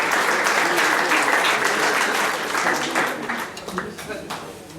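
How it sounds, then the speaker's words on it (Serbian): At a company anniversary celebration for the firm Transportšped, a hall audience applauds together, the clapping loud and even at first and then gradually thinning out. "da mu date taj aplauz koji mu niste odličili"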